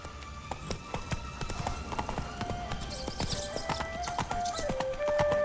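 Horse hooves clip-clop in The Witcher 3: Wild Hunt, a quick, regular trotting rhythm close by over faint ambient game music, with no voices.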